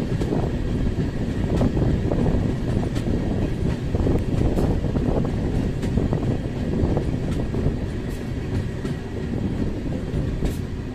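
Rockfort Express passenger train running between Tiruchchirappalli and Chennai, heard from an open doorway: loud constant rumble with rhythmic clickety-clack of wheels over rail joints and buffeting wind noise, steady throughout.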